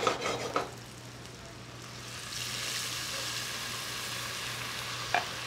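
Shallots and onions sizzle steadily in hot oil in a pan, with a louder hissing surge when white wine is poured in, plus a couple of brief utensil clinks at the start and end.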